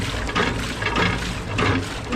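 Water wells up from below in a water feature in a German park, making a continuous, close, rushing gurgle.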